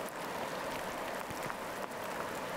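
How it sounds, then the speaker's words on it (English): Rain falls steadily in a dense, even hiss at low volume, with no voices or other sounds over it. "The rain intensifies."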